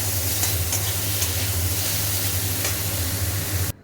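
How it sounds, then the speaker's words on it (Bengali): Eggplant frying in oil with mustard seeds, a dense close sizzle with faint stirring taps, steady until cutting off abruptly at the end. "এই যে বেগুন দিয়ে দিয়েছি, তো ভালো করে এবার ভাজা হোক"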